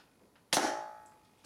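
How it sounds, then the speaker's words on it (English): A Nerf Triad blaster fires a foam dart, giving a single sharp, close pop with a short ringing decay in an otherwise quiet room. "I'll shoot a couple with my triad here"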